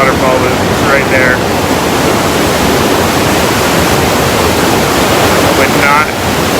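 A tiny waterfall of fast-moving water rushes as a loud, steady, close roar of broadband noise, with faint brief voice-like sounds near the start and end.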